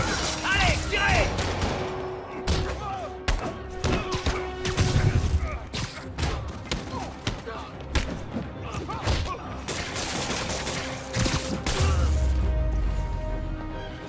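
Gunfire from the Spider-Man PC video game, a burst of shots and impacts mixed with crashes and thuds over game music and effects, steady and loud, with brief game voices in places.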